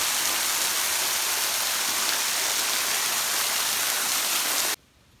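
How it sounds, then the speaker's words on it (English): A waterfall at a state park roars as a steady, loud broadband rush, even and continuous like heavy rain, cutting off abruptly near the end. "That's not rain, that's the waterfall."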